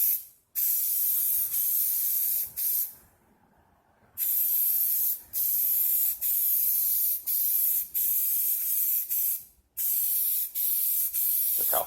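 Bursts of silver spray paint hiss from an aerosol can, short and long sprays separated by brief pauses, close and steady.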